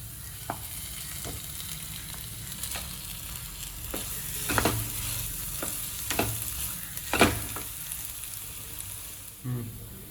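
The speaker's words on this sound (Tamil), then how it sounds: "இந்த மசிச்சு வச்ச உருளைக்கிழங்கு அதோட சேர்ப்போம்." Mashed potato stirred into well-sautéed onions with ginger in a pan while preparing fish cutlets, giving a steady close sizzle with scraping stirs and a few louder spoon knocks, no voices.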